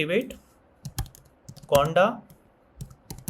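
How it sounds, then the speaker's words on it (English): Computer keyboard typing a conda command, a few short bursts of key clicks spaced across a quiet moment, with some speech-like sounds in between. "just type this command conda"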